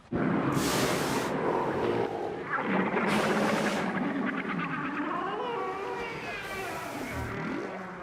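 Humpback-style whale calls, long tonal moans and upsweeping cries repeating one after another over a steady underwater rumble, clear and fairly close with no talk.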